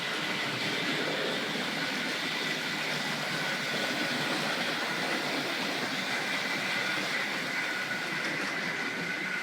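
A Tri-ang model railway locomotive runs along its track with a steady, continuous whirring rumble. The level stays even throughout, with no voices.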